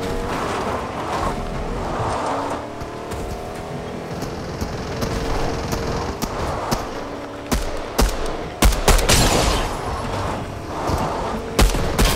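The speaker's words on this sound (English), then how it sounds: "I heard some gunfire up here." Scattered gunshots and short bursts of rapid fire in the video game Fortnite, growing sharper and louder in the second half over a steady rumbling background.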